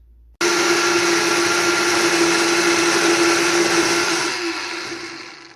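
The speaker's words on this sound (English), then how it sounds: "So I've given that a nice buzz in the blender" A blender whirs loudly and steadily for about five seconds mixing Korean pancake batter, starting abruptly and easing off slightly at the end, with no talking.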